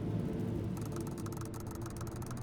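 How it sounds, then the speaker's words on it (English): A steady engine whir and road rumble of a car cruising along in the video game Pacific Drive, continuous and mid-level, with a brighter hiss building partway through. "That's the sound of driving."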